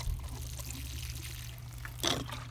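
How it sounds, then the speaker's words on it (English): Water pours from a container onto the soil around a freshly transplanted seedling, a close, steady trickle over a low hum that swells into a brief louder splash near the end. "And then we're going to water it like so."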